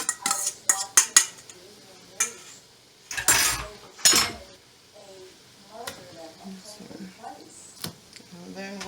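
Cooked macaroni goes back into the pot with a series of sharp metallic clanks and scrapes of a utensil against cookware, irregular and close, while a person talks in between.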